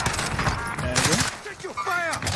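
Gunfire in the battle-royale shooter Call of Duty Warzone, from a FAL rifle built as an SMG: quick bursts of shots crackling close by, largely buried under continuous excited talk.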